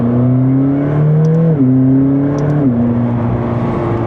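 A McLaren 600LT Spider accelerates hard, its engine tone climbing steadily and dropping sharply at two quick gear shifts before rising again, loud and close, with no talking.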